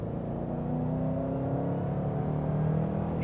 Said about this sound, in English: let's hear that engine one more time